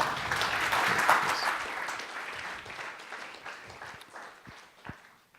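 Conference attendees at an IBM blockchain talk applaud a speaker: a full burst of clapping that gradually thins and fades, ending in a few scattered, isolated claps.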